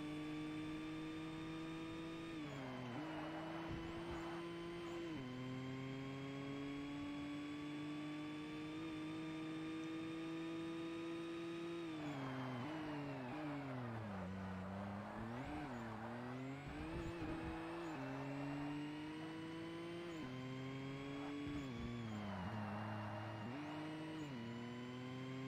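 Race car engine in Forza Motorsport, a steady loud drone that climbs and drops through repeated shifts and revs, running alone without talk.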